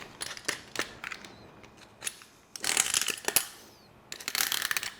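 Chop saw cutting plastic pipe for a tile shower job, giving several sharp, loud bursts of grinding and cracking with short pauses between cuts, close up.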